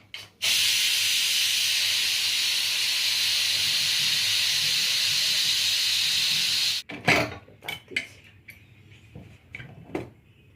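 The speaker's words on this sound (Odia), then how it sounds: "ପ୍ରେସର କୁକରର ସିଟିଟା କାଢ଼ିକି ତାକୁ ଟିକେ ଥଣ୍ଡା କରିବାକୁ ପଡ଼ିବ" A pressure cooker with its whistle removed vents a loud, steady steam hiss for several seconds, then cuts off, leaving scattered clatters and knocks from the kitchen.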